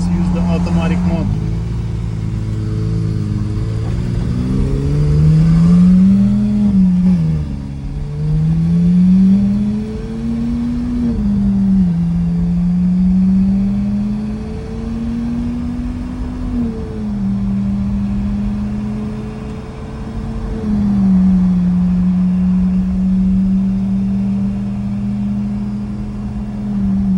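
Lamborghini Aventador engine running cold on a test drive in automatic mode, a steady mid-low drone that rises and falls with throttle through the drive, loud and close, with occasional speech faintly over it.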